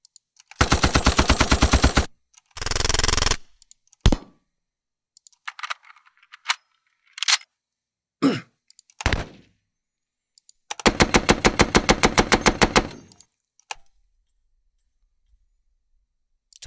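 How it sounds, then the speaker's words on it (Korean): A tank-mounted machine gun from a sound effect library fires several loud, rapid automatic bursts with isolated single shots in between, close and unaccompanied by any voices. "탱크에 있는 머신건 소리예요. 네, 기관총 소리."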